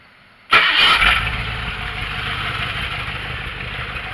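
A car with an electric fuel pump cranks and fires abruptly, then settles into a steady, loud idle close by with a faint high whine running over the engine.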